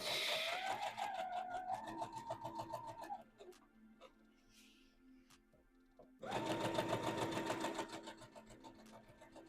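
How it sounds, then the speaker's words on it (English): Sewing machine running a stay stitch on a dress, loud close motor whir in two bursts separated by a quieter pause of a few seconds. "let's go ahead and do that stay stitch"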